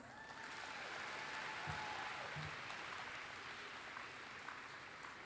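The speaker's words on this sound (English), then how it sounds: "can we give her one more round of applause?" Audience applause for a performer at a university spoken-word and storytelling event, a steady broadband wash of many hands clapping that fills the whole moment at moderate level, with no talk over it.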